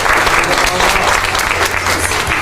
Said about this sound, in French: Applaudissements, applaudissements.